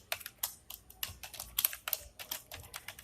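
Quiet, close keystrokes on a computer keyboard as code is entered, an irregular patter of separate taps with a few quick runs, no talking.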